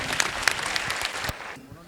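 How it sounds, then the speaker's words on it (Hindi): A short burst of audience clapping for a student at a talk, brisk and fairly close, with a voice over it before it quickly fades out. "जोरदार तालियां"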